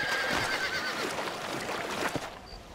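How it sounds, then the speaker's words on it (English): Horses in the video game Red Dead Redemption give a whinny and a few snorts over a dense, continuous ambient bed at moderate distance, with occasional hoof clops. "These horses look fresher."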